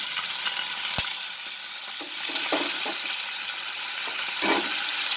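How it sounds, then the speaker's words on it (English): Chopped potatoes frying in hot mustard oil over a lowered flame: a continuous close sizzle with occasional stirring scrapes and clicks. "And now I will fry these potatoes for 2 minutes"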